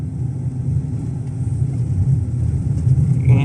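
A car on Antares studded 175/R14 tyres cruises a snowy highway in a blizzard, with a steady low engine drone and road rumble that holds evenly from start to end, with no talking.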